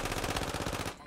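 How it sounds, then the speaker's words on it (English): Rapid automatic gunfire from a Call of Duty match, a dense one-second burst of evenly spaced shots that cuts off abruptly, moderately quiet in the game mix. "Shot him once."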